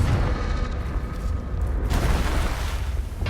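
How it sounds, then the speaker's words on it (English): The Confringo fire spell from the Hogwarts Legacy video game goes off as a heavy, sustained rumbling blast, loud and close, with a second surge of roaring noise toward the end. "Confringo!"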